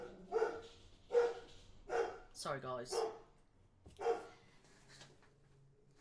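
A dog barks repeatedly indoors at a moderate distance, five or six sharp woofs with a whine, while a person speaks briefly over it.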